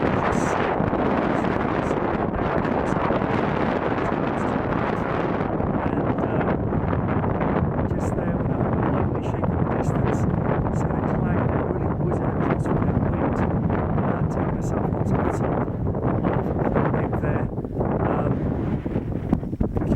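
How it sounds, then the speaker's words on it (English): Strong wind buffets the microphone continuously on a hilltop in the Brecon Beacons, a loud roaring rush with gusty bursts that never lets up. "still a bit breezy, as you can probably hear"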